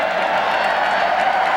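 A roar from a crowd of over 86,000 at a college football game, Texas A&M versus Texas in 1999, in a large stadium: steady, dense and loud, with no single voice standing out.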